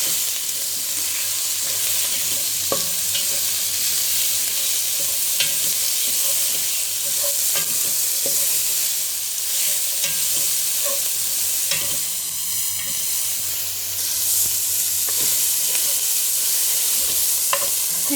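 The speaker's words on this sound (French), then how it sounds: "Et je vais bien les faire caraméliser." Veal pieces caramelizing in a pan for a stew, sizzling steadily while a utensil scrapes and stirs with occasional clinks and taps.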